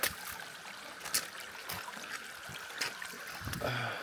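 Shallow stream trickling over rocks on a rugged Ozarks hiking trail near Beaver Lake, a soft continuous babble with small splashes and occasional footstep-like knocks, faint and close.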